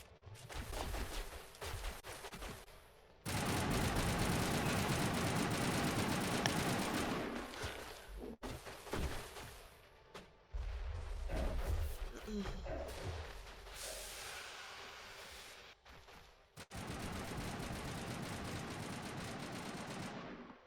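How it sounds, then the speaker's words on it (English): Rocket fire in a Mass Effect combat sequence: loud, sustained blasts and rumbling explosions come in heavy bursts with short pauses, mixed with rapid gunfire throughout. "is that a rocket?"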